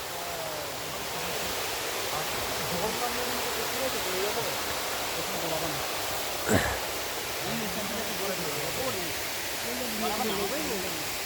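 Water at Rupshi waterfall pours in a constant, full roar that stays loud and even throughout, while people talk and call out over it.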